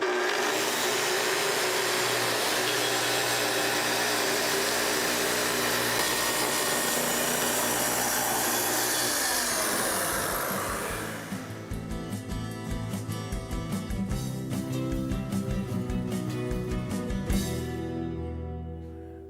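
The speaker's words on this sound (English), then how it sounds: "first start the saw, then plunge down to your depth setting and advance into the workpiece slowly" A Festool TS plunge track saw runs loud and steady as it cuts into a workpiece, then its whine drops and fades away as the blade spins down, with no talking.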